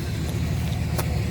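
A car engine idling after a cold start on a freezing morning near 32 degrees, a steady low rumble with no change in pitch. One brief hiss rises partway through.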